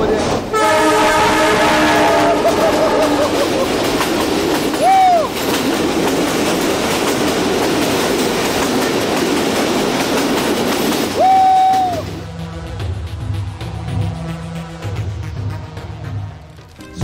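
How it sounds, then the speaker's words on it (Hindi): Train rushing close past on the tracks inside a tunnel, a loud roar with rhythmic wheel clatter and two horn blasts, fading to a lower rumble after it goes by. "आवाज़ करीब आ रही है, ट्रेन काफ़ी करीब आ गई है मेरे।"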